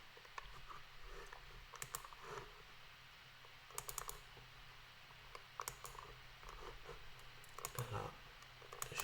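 Quiet computer mouse clicks and light keyboard typing come at irregular intervals, close but faint, with short bursts of keystrokes over a steady low background hum and no speech.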